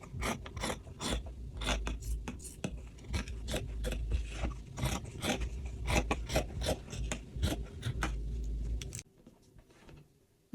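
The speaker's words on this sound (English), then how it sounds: "Cut it out." Scissors cutting fabric for a tiered flare skirt, a rapid series of close crisp snips and rasping blade strokes that continues for several seconds, then stops.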